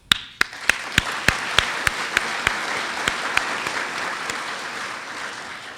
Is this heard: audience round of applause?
yes